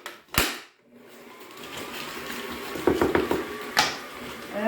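Stand mixer churning Oreo cookie dough on low speed, a steady close motor whir with a few brief clunks of the beater against the bowl, preceded by a short sharp knock, no talking.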